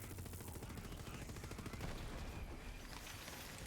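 Rapid automatic gunfire rattles loudly and continuously in a shooter video game, dense overlapping shots with explosive bursts and no pause.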